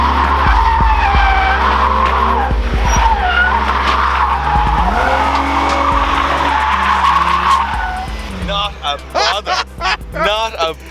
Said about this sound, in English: Well, it does a skid anyway.